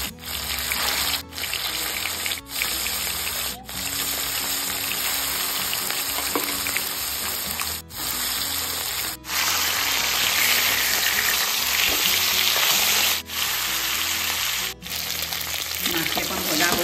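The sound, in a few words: fish frying in hot mustard oil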